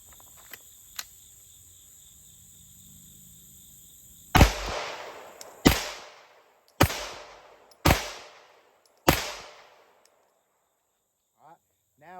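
Five sharp pistol shots from Underwood 115-grain ammunition through a PMM micro barrel and compensator, loud and close at an outdoor range, spaced about a second apart, each with a ringing decay, crickets chirping steadily in the quiet before them.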